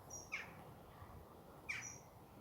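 Two short, sharp calls from a wild bird in a UK garden allotment, spaced well apart over a quiet outdoor background.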